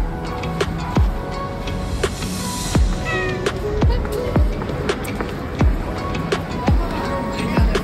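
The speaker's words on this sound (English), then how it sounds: "Ending off the day with another kitty cat." A cat meows a few times, its cries rising over steady rhythmic music with a thumping beat.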